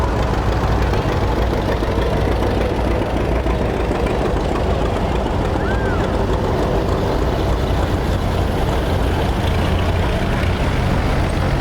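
An antique tractor engine idles at a club tractor show, a loud, close, unbroken throbbing chug that holds steady from start to finish with no voices over it.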